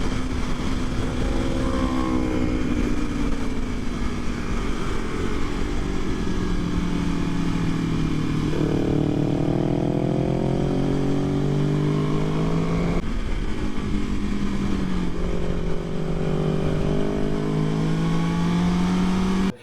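Two sport motorcycles, a Kawasaki Ninja 400 and a BMW S1000RR, race hard on a track, loud and close with steady high engine drone and rising pitch sweeps as they accelerate through the gears, no voices.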